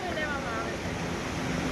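A river rushing beside the trekking path to Kedarnath, a steady broadband wash of flowing water that fills the short stretch evenly, with no voices over it.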